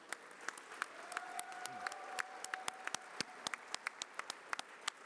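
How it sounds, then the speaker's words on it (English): A small audience at an engineering capstone awards presentation gives scattered, quiet clapping, with sharp individual claps ringing out at an uneven rhythm over a soft room background. "Let's give each other a round of applause."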